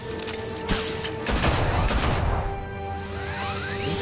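Police open fire on Batman in the Telltale Batman game, a loud rapid volley of gunshots with sharp crashes that fades to a ringing tail.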